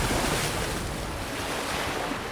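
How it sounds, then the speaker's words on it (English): Ocean surf washes and roars in a dense, continuous rush, as orcas drive a wave over ice to sweep seals into polar water, with wind buffeting the microphone. "They use teamwork and precision to cause a giant surface wave to sweep the seals off the ice into the water."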